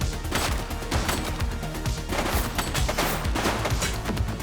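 Dense, sustained gunfire from The Precinct on PS5, a police action game, with rapid overlapping shots forming a constant loud fusillade through the whole stretch.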